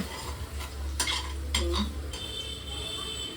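A spoon stirs egg and potato frying in an oily pan, with steady sizzling broken by a few louder scraping strokes against the pan, close and clear with no voices.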